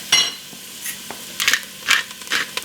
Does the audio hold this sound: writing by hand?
no